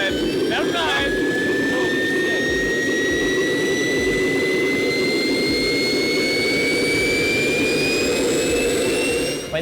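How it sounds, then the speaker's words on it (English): A jet engine mounted on a homemade wagon roars steadily and loudly close by, with a rising whine running through it for the full stretch. "what it's like to hear this jet engine in person"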